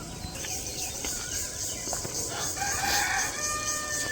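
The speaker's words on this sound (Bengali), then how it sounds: "মুরগিগুলা ডাকতেছে।" Chickens cluck and a rooster crows at a village poultry farm in Bangladesh, with a continuous layered flock chatter and a few louder crows rising near the end.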